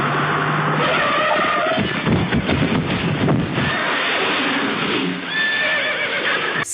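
A horse whinnies loudly in an Indian film scene, followed by a rough skidding scrape and hoof clatter on the road, with wind noise over the whole track.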